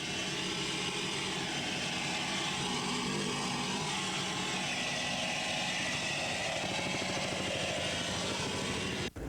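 Offshore racing powerboat engines drone continuously at the 1983 Key West offshore race, a loud sustained roar with a low throbbing pulse that carries steadily without pause before cutting off abruptly at the end.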